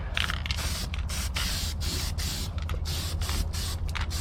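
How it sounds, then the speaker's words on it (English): Spray priming a small spot on a 1967 Chevelle: a steady close hiss of aerosol primer lasting the whole stretch, broken by a few brief pauses, over a low background hum. "I'm gonna do a little priming"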